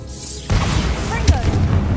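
A Bombarda spell detonates in Hogwarts Legacy, a sudden low boom that cuts in halfway and rumbles on, with a sharp crack a moment later amid game sounds.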